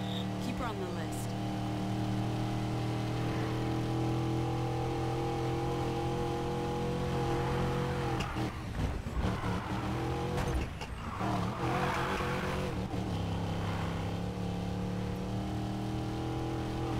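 Car from the Need for Speed Payback video game, its engine droning steadily with bursts of tire skidding and squeal in the middle, while voices talk over the driving.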